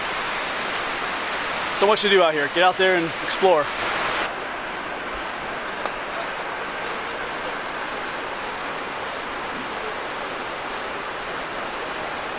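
Waterfalls in Lehigh Gorge State Park, Pennsylvania, pour out a steady, unbroken rushing roar from start to finish, and a voice speaks briefly over it near the beginning.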